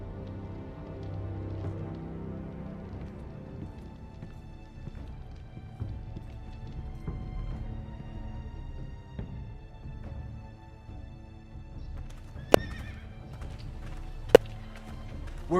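A horse gallops steadily at mid-distance in Telltale's Game of Thrones video game, its hooves drumming a continuous rhythm under soft ambience, and two sharp bright accents ring out near the end.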